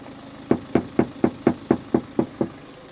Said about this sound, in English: a few knocks on that. That is a soundproof panel.